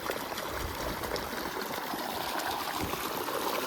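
Water gushing steadily from a farm motor pump that had earlier been bringing up sand and muddy water, now running clear: a continuous broadband rush with no breaks, fairly close and with no talk.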